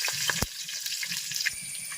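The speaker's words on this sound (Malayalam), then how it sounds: "അപ്പൊ നമ്മുടെ കടുക് പൊട്ടിയിട്ടുണ്ടെങ്കിൽ നമ്മൾ അടുത്ത പച്ചമുളക് ഇടുവാണ്." Green chillies dropped into hot coconut oil after mustard seeds have popped, cooked for an old-style wedding beef curry: a steady close sizzle with scattered sharp pops and crackles, and no talking.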